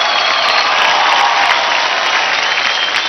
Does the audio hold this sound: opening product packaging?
no